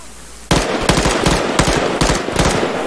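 Loud machine gun fire in Arma 3, a close burst starting suddenly and continuing as a stuttering series of heavy rapid shots for a few seconds.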